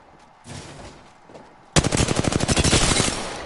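Sustained automatic gunfire in a battle royale video game, starting abruptly after a few scattered shots and then firing as a rapid, loud, close stream of rounds that continues to the end.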